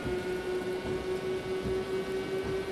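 Heavy rain pours down over a motor racing circuit, a dense, steady hiss with a faint constant hum beneath it and no voices.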